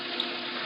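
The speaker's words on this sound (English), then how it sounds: "I turned on the faucet in the sink" Water running steadily from a sink faucet, a continuous close hiss and splash with even loudness throughout and no voices.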